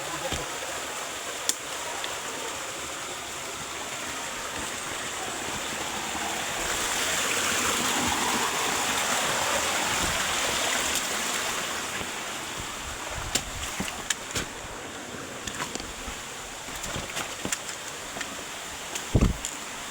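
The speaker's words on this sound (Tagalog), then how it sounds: "Bukal-bukal yung ilog ba." A rocky river runs in a steady broadband rush, with the flow swelling louder midway, plus scattered knocks and scuffs close by as someone makes their way over slippery stones.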